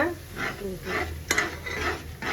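Thick Mysore pak batter of gram flour, sugar and hot ghee is stirred in a pan at home, with rhythmic scraping strokes repeating about every half second and a soft sizzle between them.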